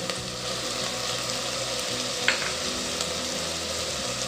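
Potato, carrot and beetroot pieces sautéing in oil for a millet khichdi, a steady close sizzle and crackle with faint stirring scrapes throughout.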